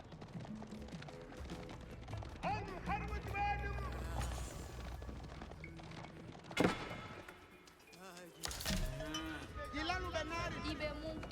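Cattle moo repeatedly among Age of Empires 4 game sound effects and a cowbell-like clank, with a voice talking over the top.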